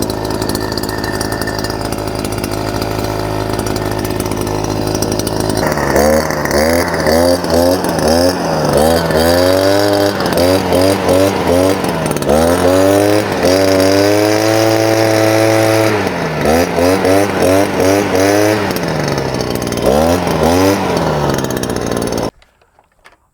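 Gas engine of a GarveeTech 43CC backpack leaf blower running close and loud, revving up and down in repeated throttle swells over a steady two-stroke buzz, then cutting off abruptly at the end.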